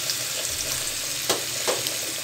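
Dried chepa shutki fish cooking in a pan with a little water, a continuous close bubbling sizzle with a couple of brief stirring scrapes.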